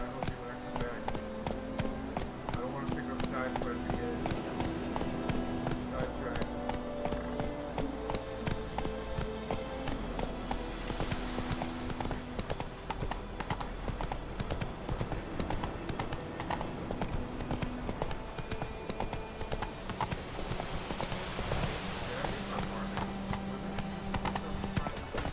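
A horse galloping in The Witcher 3 video game, with continuous rapid clip-clop hoofbeats throughout and game sounds and a voice layered underneath.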